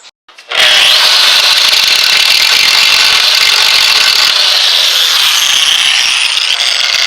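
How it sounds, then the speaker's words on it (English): An angle grinder bites into the factory rivets of a Chevy S-10 lower ball joint, spinning up abruptly then holding a loud, continuous, harsh whine close by for several seconds. "Okay, now I've got my grinder."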